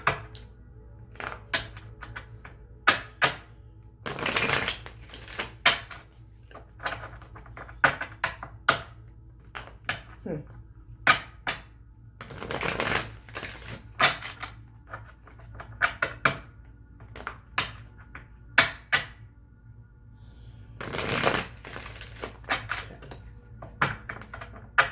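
A deck of cards is shuffled close by: bursts of riffling flutter recur several times, separated by taps, soft knocks and card handling clicks in an otherwise quiet room.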